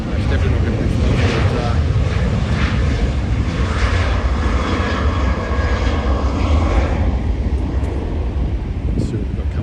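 Loud, steady jet engine roar from an Air New Zealand Boeing 777-300 departing an airport, heard up close and continuous throughout, with wind buffeting the microphone.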